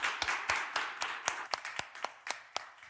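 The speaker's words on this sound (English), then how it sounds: "If we can give them a round of applause, please." A small audience at a humanitarian assistance panel event gives a sparse, quiet round of scattered hand claps, about a dozen distinct claps over a few seconds.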